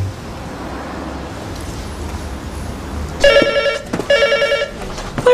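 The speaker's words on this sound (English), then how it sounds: "DC Drummond's phone" A telephone rings in a police station, two short bursts of bright electronic trilling after a quiet stretch of low room and traffic hum.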